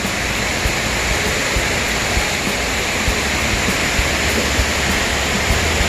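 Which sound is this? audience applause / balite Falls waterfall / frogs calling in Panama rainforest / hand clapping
balite Falls waterfall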